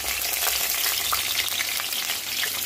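Mustard seeds and dried red chillies sizzle steadily in hot oil for a bisi bele bath tempering, a loud, continuous crackling hiss with no voices.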